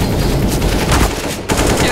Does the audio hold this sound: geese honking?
no